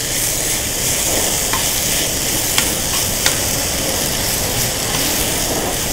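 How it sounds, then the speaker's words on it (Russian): Mushroom filling seasoned with salt, black pepper and rosemary fries in a pan while being stirred, giving a steady close sizzle with a few light utensil clicks scraping through it. "И начинаем размешивать."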